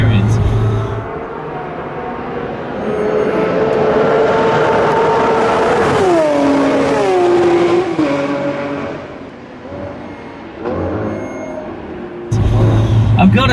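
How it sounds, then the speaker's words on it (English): Lamborghini with a naturally aspirated V12 engine, a loud race-car howl that climbs in pitch, shifts down and swells again, with other cars passing and someone speaking over it. "As you've heard, it truly sounds like a race car."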